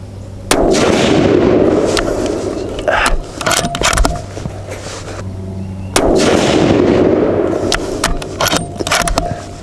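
Rifle shots from a Savage 12FV firing Hornady 178g ELD-X loads: two loud, sharp reports about five seconds apart, each with a long rolling echo, plus clinks and handling noises between them outdoors.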